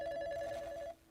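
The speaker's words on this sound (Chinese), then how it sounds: "来电话吼" A telephone rings once with a steady electronic tone for about a second and then stops, heard faintly in a quiet room during a live music call-in broadcast.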